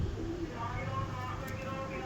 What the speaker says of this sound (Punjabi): ਚੈੱਕ ਕਰੋ ਕਬੂਤਰ ਸਰ।